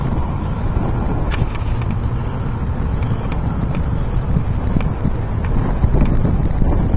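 A steady breeze buffets the microphone outdoors on a sunny day among palm trees, producing a constant low rumble with faint rustling and no clear voices.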